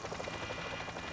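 A police helicopter drones steadily overhead, a continuous rotor buzz with a faint rhythmic pulse and no voices.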